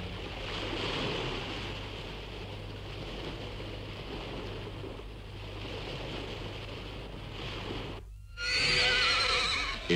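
A Connemara pony foal in Ireland lets out a loud, close whinny near the end, after a steady stretch of outdoor noise with faint hoofbeats.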